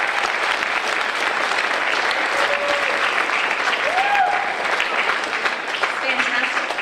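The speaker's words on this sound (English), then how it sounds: "Yes, please give them a round of applause." An audience at a middle school band concert gives loud, continuous applause that stays full and even throughout, with a few whoops and faint voices rising above the clapping.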